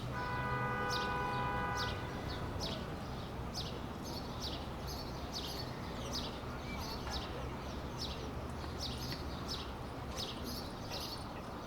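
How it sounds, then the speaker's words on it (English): Birds chirp and tweet repeatedly over a steady low roar of morning city traffic, with a brief tonal horn-like sound at the start. "the sound of the bustling city in the morning, a call and response of cars and birds"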